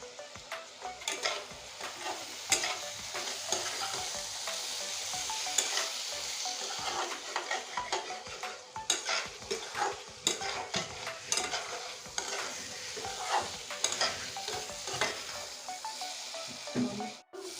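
Green chilies and other ingredients are stir-fried in a pan for a Lakshmi Puja bhog. A continuous close sizzle runs throughout, with frequent sharp scrapes and clinks of a spatula against the pan.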